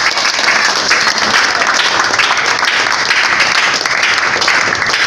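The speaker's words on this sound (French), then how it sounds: "Applaudissez à Jésus." Church congregation at a deliverance service breaks into loud, continuous applause, dense clapping sustained evenly from start to finish, with faint voices mixed in.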